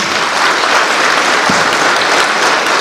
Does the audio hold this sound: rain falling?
no